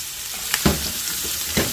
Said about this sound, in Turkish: doğradığım biberleri tavaya alıyorum ve küçük ateşte yavaşça kavuruyorum